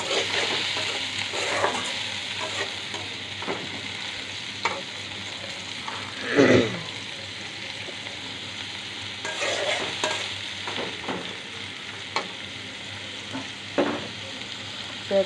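Chopped onion fries in a pan with a constant close sizzle, broken by repeated scraping stirs and one louder clatter, with no one speaking.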